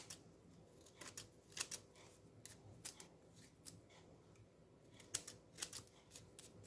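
A paper guillotine slices through paper card, giving a series of quiet, crisp cutting clicks and snaps at an irregular pace, with no voices.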